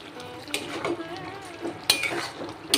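Bottle gourd and fried prawns cooking in a watery pan: a few metal spoon scrapes and clanks against the pan over a gentle simmering sizzle, close and brief, with no talk.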